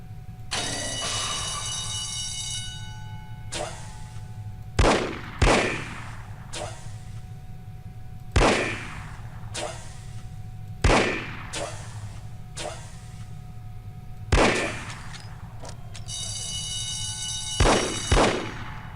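A revolver in the video game No One Lives Forever fires about eight sharp shots at irregular intervals over a steady low drone, with bright ringing tones at the start and end.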